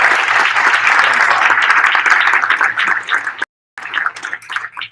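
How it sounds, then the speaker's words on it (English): An audience at a U.S. Conference of Mayors inauguration claps in loud, dense applause that fades slightly, breaks off in a brief silent gap, then resumes more thinly. "Why don't we give them a round of applause for this incredible"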